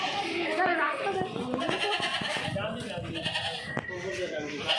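A goat at a livestock market bleats several times amid busy crowd noise, with people and children talking loudly around it.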